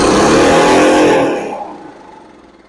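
A lawn mower engine stuck at wide open throttle roars loud and close, a strained high-revving drone that cuts off and dies away over a second or so.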